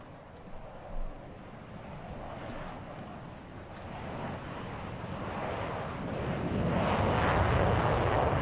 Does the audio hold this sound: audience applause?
no